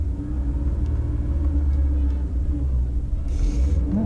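A manual car idles and pulls in first gear at about 2,000 RPM, a deep steady engine rumble filling the cabin, loud and continuous with a brief hiss near the end.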